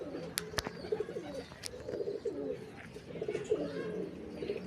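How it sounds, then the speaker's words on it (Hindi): Topi pigeons coo softly in a series of low, rolling calls, with a few sharp knocks and rustles around them, fairly faint and close. "ये टोपी बटेरे कबूतर हैं जी"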